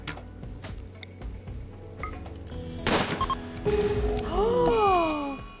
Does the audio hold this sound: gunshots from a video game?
yes